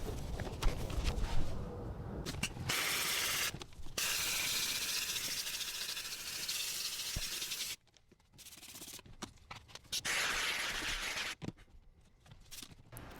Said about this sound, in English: I specifically stayed with the steamer on cleaning the carpet